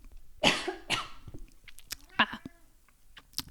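Two harsh coughs close up, followed by a few smaller throat sounds and scattered short coughs.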